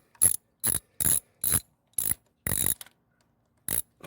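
A ratchet wrench loosens a bolt on a car engine in a series of sharp, close clicking bursts, about seven quick runs separated by short pauses, with no talk.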